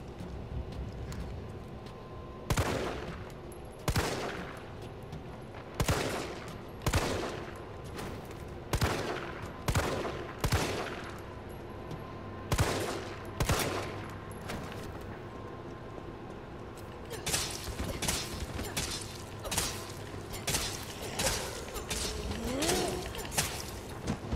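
Repeated gunfire in the Resident Evil 3 demo, a series of sharp shots spaced about a second apart, with denser bursts toward the end, heard alone over a low game ambience.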